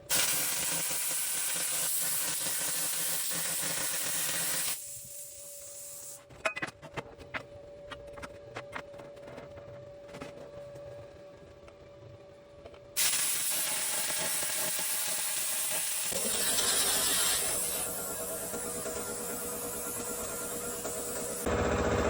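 A plasma cutter slices through 175 steel channel, giving loud steady hissing with a quieter, crackling stretch in the middle where the cut stutters in jerks, then the full hiss returns.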